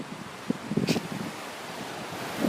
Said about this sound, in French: Alors je sais pas si le son va bien, avec il y a un petit peu de vent.